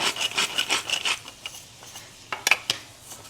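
Vegetables being cut in a home kitchen while cooking fiddlehead ferns with onions: a quiet run of rhythmic scraping knife strokes on a board, then a few sharper isolated chops, faint and close without talk.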